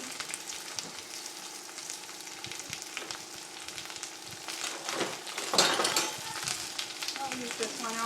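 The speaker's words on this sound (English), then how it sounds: "So, I brown the onion, or not brown it," Onion frying in a non-stick pan, a dense steady sizzle with spatula stirring and scraping that swells briefly midway, heard up close.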